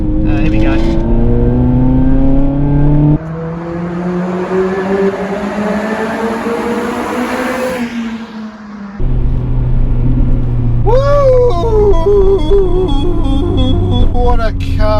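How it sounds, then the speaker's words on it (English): Honda Civic Type R fitted with a Japspeed single exit exhaust, revving loudly with rising and falling engine pitch over a steady rumble, close by, with a brief quieter dip before the revs climb again. "And the exhaust sounds amazing"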